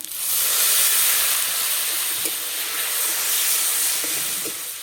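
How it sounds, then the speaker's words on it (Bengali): Turmeric and ground spice paste sizzling in a pan after fried potatoes, for a rohu fish curry with Malabar spinach; a steady, fairly loud hiss runs throughout, with no talk over it. "হলুদ গুঁড়ো, মশলা বাটা জল দিয়ে মশলা ভালো করে কষিয়ে নেব।"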